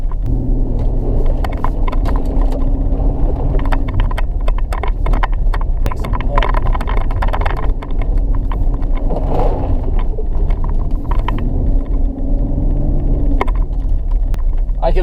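A 2018 Chevrolet Colorado ZR2 truck in four-wheel drive crawling over big off-road bumps, with a loud steady engine rumble, repeated knocks and rattles from the suspension, and someone talking over it.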